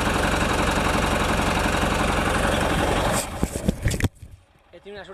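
A tractor engine runs while towing a stuck vehicle out, a loud, steady rumbling drone that breaks up into irregular knocks and clatter before dropping away sharply near the end.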